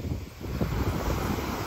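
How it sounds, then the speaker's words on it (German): Sea waves washing onto a beach on Koh Samui, a steady broadband wash of surf mixed with wind noise on the microphone, fairly loud and continuous with no voices. "Und das sind die Wellen heute."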